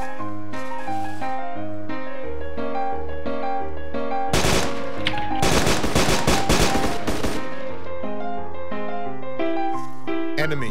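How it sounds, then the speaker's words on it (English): Bursts of enemy machine gun fire rattle in the middle of the stretch, loud and rapid, set against a steady musical backdrop with no talking. "Enemy machine gun way to our front."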